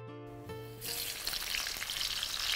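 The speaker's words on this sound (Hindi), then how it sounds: "देखिए अच्छे से ड्राई कर लीजिए पहले कटहल को, और उसके बाद ऐसे तल लीजिए" Dried jackfruit pieces dropped into hot oil for frying: a brief tonal hum gives way to a sudden burst of loud, steady sizzling that keeps going to the end.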